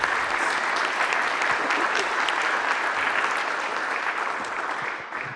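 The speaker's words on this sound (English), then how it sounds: "Give a round of applause." An audience at a business pitch event claps in a dense, even burst of applause that holds steady, then starts to fade away at the end.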